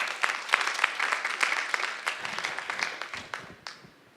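An audience applauds to welcome speaker Holly Brophy-Herb at a child flourishing symposium, a steady patter of many hands clapping that thins and fades out over a few seconds.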